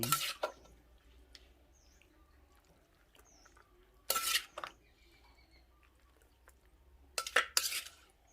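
Metal utensils clink against a large bowl in a few brief bursts while mixed som tam papaya salad with squid, Thai pork sausage and salted egg is scooped in, with quiet pauses between the scrapes.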